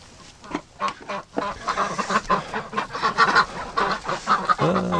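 Several Muscovy ducks honk and hiss in a rapid, overlapping run of calls at close range, with barnyard fowl sounds filling the short stretch.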